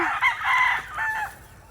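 White Kelso chickens in a free-range area: a rooster crows loudly and close, one drawn-out call broken into a couple of rising and falling segments, alone without talk.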